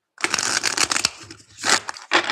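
A tarot deck is shuffled up close in bursts of riffling, flapping card noise, a longer run followed by two shorter shuffles with brief pauses between them.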